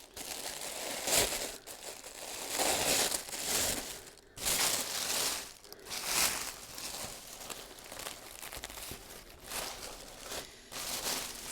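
Rainbow foil tissue paper crinkles and rustles in repeated bursts while being unpacked from a bra-making supply haul, close and fairly loud, with brief pauses between handlings and no talking.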